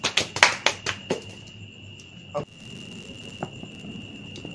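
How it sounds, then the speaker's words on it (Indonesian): A few sharp handclaps from a small audience at a Q&A during the opening of a campus honesty-shop event, bunched in the first second or so and fading into room noise, with a steady high feedback whine throughout. "Tepuk tangan untuk penanya"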